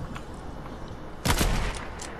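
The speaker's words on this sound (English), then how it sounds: "I just sniped at a kid. Holy I missed." A sniper rifle shot fires in a video game, a sudden loud blast with a short rumbling tail that cuts through quieter background game noise.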